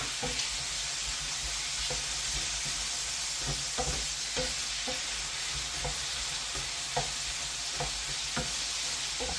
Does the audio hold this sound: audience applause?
no